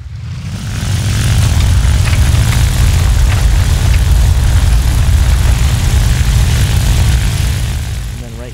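A P-51 propeller fighter engine in War Thunder, on an aircraft carrier, drones loud and steady, swelling in at the start and holding a constant low roar throughout with no talk over it.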